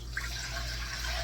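Three cups of chlorine-free filtered water from a fridge pour into a sourdough mixer, a close, steady splashing and gurgling stream over a low hum, with no voices.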